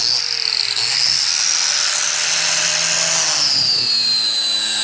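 Continuous abrasive rasping of 80-grit sandpaper worked by hand across a brand-new kart tire, loud and steady with a high hiss and no pauses, a tonal whine running beneath.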